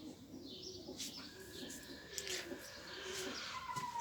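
Pigeons cooing softly in a loft, a low repeated coo with some faint chirps over steady background hiss, fairly distant and quiet.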